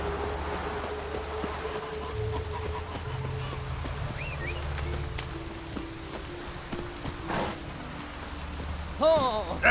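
Steady rain hiss in The Witcher 3: Wild Hunt, joined by low rumbling tones, horse hoof clops and scattered game effects, with a brief louder burst near the end.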